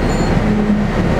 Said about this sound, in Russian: Вот мы наконец-таки на новеньком Нефазе доехали до Москвы.